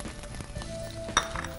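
Boiled American corn sautés in a spoonful of olive oil with a faint, steady sizzle, broken by a brief clink of a utensil against the pan.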